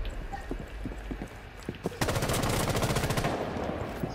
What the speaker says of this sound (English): they shotgun this guy downstairs